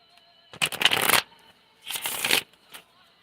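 Playing cards being shuffled in two quick riffling bursts close by, each lasting about half a second to a second, with a brief faint tap after, in a quiet room with a cat nearby.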